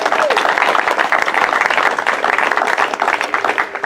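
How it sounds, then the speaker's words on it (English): Lively applause at an ACLU awards ceremony and annual meeting, many hands clapping loudly and unevenly throughout, with a few voices mixed into the crowd. "So, round of applause to you all."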